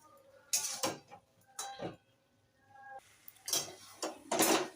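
Labra mixed vegetable curry being stirred in a pot, a few separate bursts of scraping and clattering from the spoon against the metal, with quiet pauses between the strokes.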